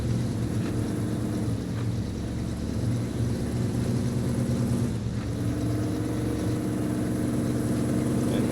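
A steady, low engine drone of a Chevy K1500 single-cab pickup in the video game SnowRunner, with a rumbling tone throughout, shifting pitch slightly midway as if changing gear, with no talking.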